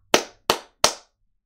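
Three sharp hand claps in even succession, close and loud, each ringing out briefly with no talk over them.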